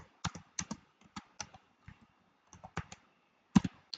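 Someone typing a search on a computer keyboard: irregular bursts of sharp, close key clicks with brief pauses between them, ending in a louder keystroke, in an otherwise quiet room.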